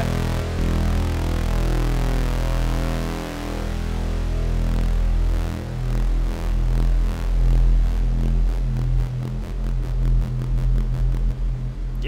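A sustained Korg NTS-1 synthesizer drone through a custom cathedral reverb, long washing reverb tails, layered tones swelling and pulsing steadily, loud and spacious with no voices.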